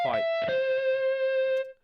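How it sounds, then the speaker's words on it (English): A reamped electric guitar through a high-gain distorted setup, one sustained, buzzing note ringing out after a couple of picked attacks and cutting off abruptly, loud and close. "quite a bit of distortion going on there. Quite a bit of high gain kicking off"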